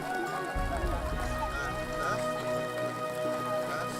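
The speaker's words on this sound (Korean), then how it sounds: "카세푸안 마을에 비가 옵니다." Steady rain patters over a village in a dense, even hiss with scattered drops, continuous and close throughout, with a narrator's voice talking over it.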